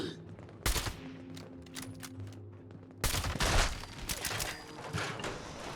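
Gunshots in Fallout 76: one sharp crack near 0.7 seconds, then a louder, denser flurry of shots from about 3 seconds on, over quieter game ambience.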